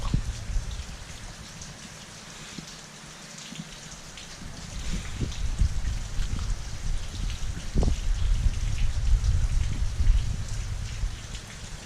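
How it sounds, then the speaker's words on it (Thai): Steady rain patters down over rice paddies among mountains in Laos, a dense, continuous hiss of drops that swells somewhat louder in the second half, with no talking. "ฝนตกแต่เสาอีกแล้ว"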